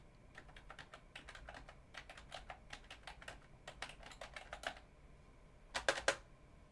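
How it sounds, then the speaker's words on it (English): Computer keyboard with a number pad clacking as keys are pressed during cleaning, quick irregular bursts of crisp taps, close and fairly quiet, with a final sharper double clack. "Sounds like a old style keyboard"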